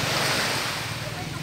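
Sea surf washes steadily onto a beach where children are bathing, a loud continuous rush of breaking waves with wind buffeting the microphone and no clear voices.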